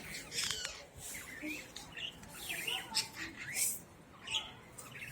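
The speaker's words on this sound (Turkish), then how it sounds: "Tatlı kuşlar." Small pet birds indoors give repeated bright chirps and short squawks in quick, uneven bursts, fairly close, with voices speaking now and then underneath.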